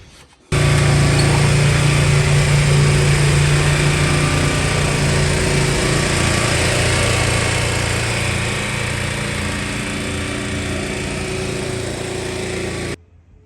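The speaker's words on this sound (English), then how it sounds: "trying to figure out what is going on with our four-wheel drive on the four-wheeler" A four-wheeler ATV with a four-wheel-drive problem runs steadily in a shop, a loud continuous buzzing engine drone that holds for about twelve seconds before cutting off, with no talk over it.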